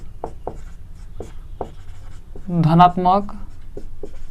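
Writing on a board while solving a Class 10 real-numbers problem: short, crisp scratching strokes tapping out at an irregular pace, close by, under a voice speaking Hindi.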